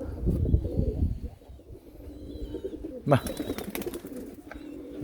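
Pigeons coo close by in a loft, with soft throaty calls repeating among light rustling and scuffing.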